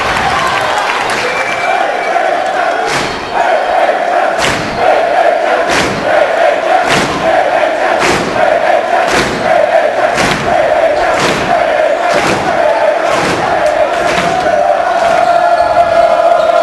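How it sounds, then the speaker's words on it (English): A loud high school basketball playoff crowd roars and chants in a gym, with rhythmic heavy thumps like stomping or drumming landing roughly every second over sustained crowd noise. "These crowds are really having an effect out of making some noise and getting into the other team's head"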